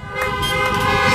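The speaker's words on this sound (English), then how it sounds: "Honk your horn if you believe." A car horn honks in one sustained, loud blast lasting about a second, with no voices heard.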